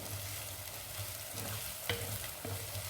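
Onion, garlic and ginger sizzle steadily in a pan while frying for a masala mutton liver dish, a soft, continuous crackle with occasional stirring scrapes, fairly quiet and close.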